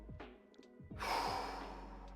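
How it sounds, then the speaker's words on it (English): Soft breath drawn in through the nose during a relaxation exercise, quiet and close, with a faint sigh-like airy rush and no talk. "we're stopping all effort and breathing in softly through the nose"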